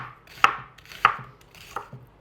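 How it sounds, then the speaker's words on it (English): A knife slicing through a raw onion on a cutting board for Southern potato salad, with three or four sharp, distinct chops spaced about half a second apart, close and clear with no talk. "we're going to slice up this raw onion"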